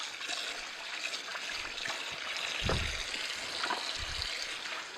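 Running water from a tap splashes steadily over juicer parts as they are rinsed, a close, continuous trickle with a few gurgles and occasional bumps of plastic pieces, no voice.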